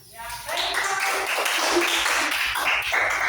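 A class gives a presenting student group a round of clapping, dense and continuous for a few seconds after a short quiet start, fairly close and lively.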